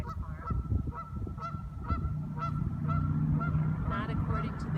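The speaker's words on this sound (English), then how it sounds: "Not according to the goose." A goose honks repeatedly outdoors, a series of loud, nasal calls in an uneven rhythm over a steady low background rumble.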